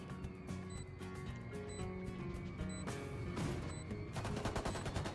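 Rapid bursts of gunfire from the tactical shooter Valorant during a Spike Rush match, fast clustered shots crackling over steady game music and ambience, with no talking.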